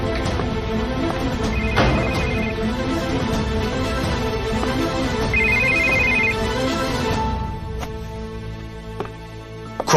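A phone ringtone rings in two short electronic bursts several seconds apart over a busy indoor background with clattering, then the room quietens.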